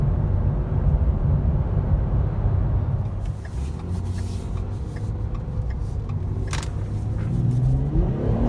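Ford Escape V6 accelerating hard from inside the cabin, a loud low engine roar with tire noise that dips briefly and then climbs again as revs rise.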